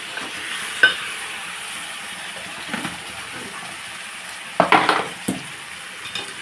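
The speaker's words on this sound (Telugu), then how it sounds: "ఇదిగోండి ఒకసారి మనం బాగా కలుపుకుందాం" Bottle gourd curry is stirred in a frying pan over a soft background sizzle, with a few scattered scraping and clinking strokes of the spoon against the pan at close range.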